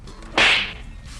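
A single sharp whoosh sweeps through, a quick swish-and-slap effect that swells and fades within half a second.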